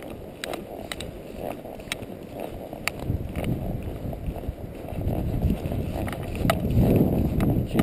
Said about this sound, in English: Seems like it's gotten windier just since we got back here.